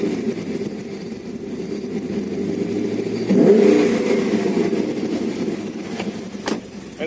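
A Holden Commodore SS with a 6.0L L98 V8, a cam and a Black Ops exhaust idles with a deep, steady rumble, then revs up briefly and settles back, close and loud.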